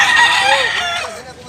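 A rooster, likely a gamecock, gives a single loud, close crow that tails off over about a second and a half.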